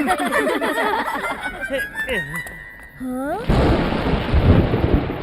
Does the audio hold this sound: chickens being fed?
no